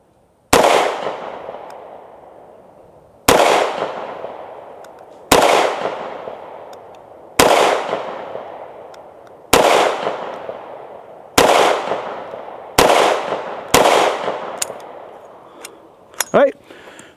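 A Hi-Point C9 pistol fires eight sharp, loud shots at steady intervals of about two seconds, each crack ringing out and decaying before the next, with a brief clatter after the last round.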